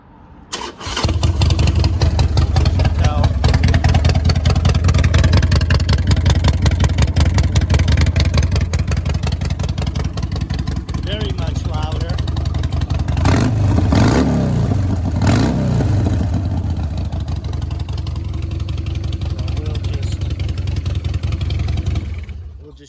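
A Harley Sportster fitted with Vance & Hines exhaust starts up close and loud, then settles into a deep, steady, lumpy idle with a brief throttle blip midway.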